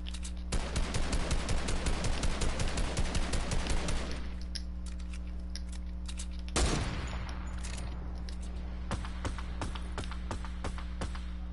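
Fortnite shotgun fire: a fast run of sharp, loud shots for about four seconds, a single heavy blast a couple of seconds later, then scattered lighter clicks over a steady hum.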